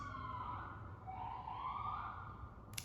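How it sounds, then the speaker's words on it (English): Faint, distant sirens wail outside, rising and falling in slow sweeps behind a quiet indoor room. "the sirens are throwing me off."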